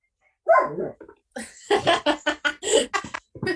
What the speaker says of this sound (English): the added sound effect of the cute doggy